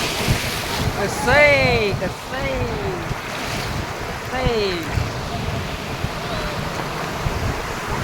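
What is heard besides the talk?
sea waves at Ganpatipule beach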